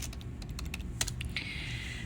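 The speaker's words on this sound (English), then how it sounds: "I'm going to type in updates." Keys clack steadily on a computer keyboard while a Windows update setting is searched, quiet and close, with a few sharper strokes and no talk.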